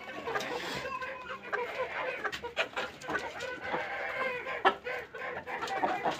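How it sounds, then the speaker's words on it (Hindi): Several chickens cluck and chatter continuously nearby while drinking water, a busy overlapping flock with steady background noise. "अब जो है मुर्गियों ने पानी पीना स्टार्ट कर दी है"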